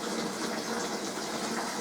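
Beer from a home brew kit pours steadily into a glass, a continuous close, full splashing gush of liquid with no pauses.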